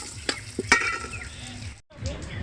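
Cashews and raisins frying in ghee make a close, crackling sizzle with a few sharp pops and stirring scrapes, cutting out briefly before the hiss resumes.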